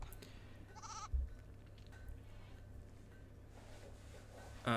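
A goat bleats in the RimWorld video game, two short nasal calls, one early and one at the very end, over a quiet low background hum.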